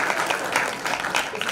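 Brief burst of audience clapping welcoming a chief guest at a Jain religious gathering, a soft even patter of many hands at moderate distance lasting only a moment.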